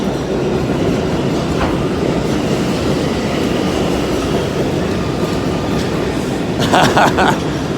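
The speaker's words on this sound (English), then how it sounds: "I love Bronx trains. They're squeaky and loud, and especially incredibly loud on corners." A Bronx subway train rumbles loudly along the tracks with steady clatter, and high metallic squeals from the wheels break through near the end.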